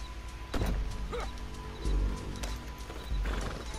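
Horse hooves clip-clop in Red Dead Redemption 2, a steady trotting rhythm close by with a brief whinny, layered over game ambience and low rumbling.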